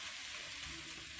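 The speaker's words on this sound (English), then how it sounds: "Let it bubble and simmer in between." Risotto stock simmering in a wok, a brief soft bubbling hiss, faint and steady with no voices.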